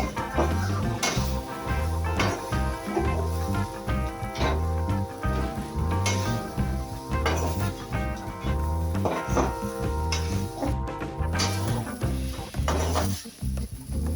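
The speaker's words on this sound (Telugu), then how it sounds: "హై ఫ్లేమ్ లో ఒక 5 minutes ఇలా ఫ్రై చేసుకోవాలండి బాగా" Schezwan fried rice tossed and fried in a thick kadai on a high flame, a loud continuous sizzle with rhythmic spatula scrapes and clanks against the pan, close up with no talk.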